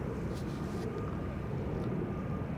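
An Air Baltic Airbus A220 (Bombardier C-Series 300) departing an airport, a steady broad engine roar at moderate distance, continuous and unbroken.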